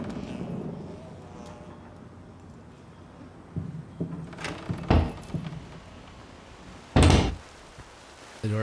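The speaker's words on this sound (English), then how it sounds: "The door closed behind me." A door thuds shut in the video game Layers of Fear, one loud, solid slam standing out over a low ambient hum, preceded by a few smaller creaks and knocks.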